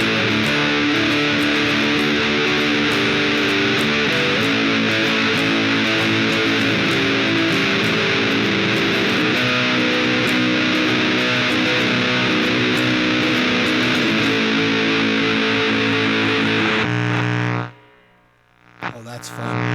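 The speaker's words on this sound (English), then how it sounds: "this is the Beltsville Legend, the fuzz pedal" A 12-string guitar played through a Beltsville Legend fuzz pedal, a thick distorted riff ringing continuously at high level before cutting off near the end, leaving hum.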